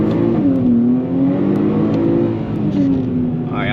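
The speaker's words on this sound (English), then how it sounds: "Alright, I'm redlining it." A Nissan Z with the VR30 engine revs hard toward redline on a test drive, a loud, close, sustained engine drone whose pitch rises, dips and climbs again, steady throughout with no talk.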